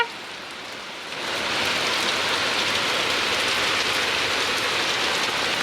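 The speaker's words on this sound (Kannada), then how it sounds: "ಎಷ್ಟು ಜೋರು ಮಳೆ" Heavy rain pours down steadily, a dense, loud hiss that swells after the first second and then holds constant with no voices.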